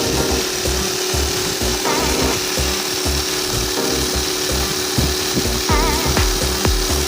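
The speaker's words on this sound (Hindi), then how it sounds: "अब ये अपर की साइडें जो है वो बेंड कर रहा है, मतलब कि इसको बेंडिंग सिलाई कहते हैं।" A shoe upper edge bending machine running continuously in a shoe factory, giving a loud, steady mechanical ratcheting and rubbing clatter with repeated rhythmic cycles.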